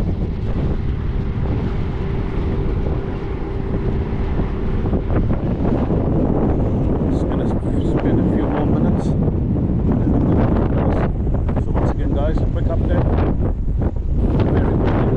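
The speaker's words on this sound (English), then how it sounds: "That is very, very windy" Strong wind at North Pier in Durban, South Africa, buffets the microphone with loud, continuous roaring gusts, and faint waves and surf sit underneath.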